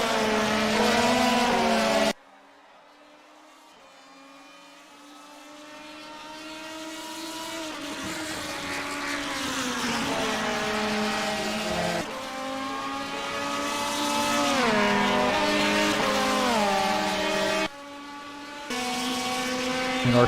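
BMW DTM race cars at Spa-Francorchamps roar past in a loud, sustained rising and falling engine howl, with gear shifts and pitch sweeps as the cars pass close by, with no voices over it.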